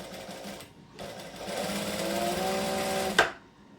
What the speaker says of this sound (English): I'm just going to stitch it together and feed the actual shirt into the loop